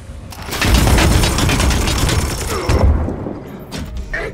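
Volley of gunfire in the Warhammer 40k Chaos Gate Daemonhunters turn-based battle, a dense loud burst of shots with heavy thuds that swells and fades over a few seconds, no talking.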